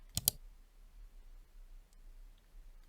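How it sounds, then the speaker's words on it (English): Two quick, sharp mouse clicks land close together near the start, clicking an Assign button in monitoring software, followed by near silence with a faint later tick. "We check on the temperature alert action and click the Assign button."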